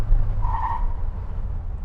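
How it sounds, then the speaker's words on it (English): A 1972 Chevrolet C10 pickup truck brakes hard just off a highway, letting out a short tire squeal over a loud, close engine and road rumble. "Hopping off the highway, let's slam on the brakes."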